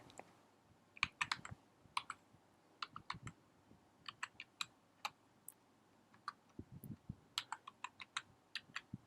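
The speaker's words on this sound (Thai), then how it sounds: "แล้วก็ พิมพ์สิ่งที่เราต้องการจะใส่เข้าไปนะ" Typing on a computer keyboard, with quick irregular bursts of light key clicks close by, continuing steadily with short pauses and no talking.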